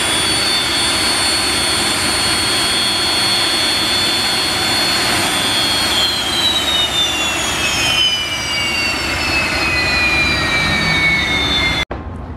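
A TBM turboprop engine is motored over during a compressor rinse, giving a loud steady turbine whine with a high tone that drifts in pitch, then cuts off abruptly near the end.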